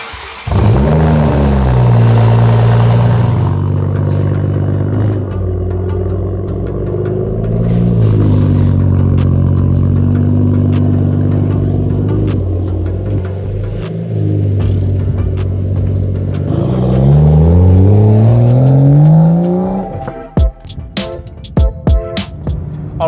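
A Toyota Supra accelerates along a street, the engine note rising through several gear pulls with loud revving and rumble, then cutting out to clatter and knocks near the end.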